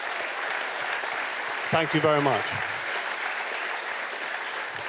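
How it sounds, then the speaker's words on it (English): Sustained applause fills a charity gala for rhinos in 2022, a steady crowd of clapping hands that runs throughout, while someone briefly speaks over it in the middle. "give them a huge round of applause"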